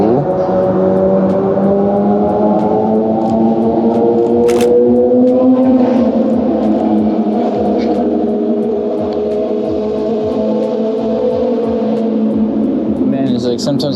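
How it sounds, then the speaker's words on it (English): Car traffic rumbles and echoes near New York bridges, a continuous loud drone of engines passing close on the street, with a voice talking over it. "sometimes I feel like the cars are right behind me just because everything echoes near the bridges"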